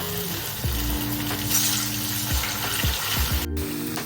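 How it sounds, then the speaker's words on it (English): Steady crackling sizzle of sabudana vada deep frying in hot oil, continuous and close, with a few low clunks and bumps from utensils. "The sound of deep frying is very amazing to the ears."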